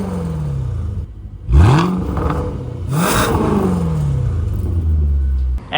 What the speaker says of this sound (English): Supercharged V8 as mentioned. It's just got such a good tone to it.